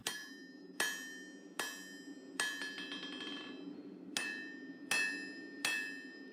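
A hammer strikes Damascus mosaic steel being forged for a Bowie knife, ringing out in about nine loud metallic blows at an uneven, deliberate pace. Each hit has a bright anvil ring that decays between strikes, with no talking.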